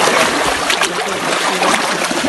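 Fast, churning flood water rushes loudly and continuously, close by, a dense roaring wash with no pauses, during severe flooding in Pakistan in 2022.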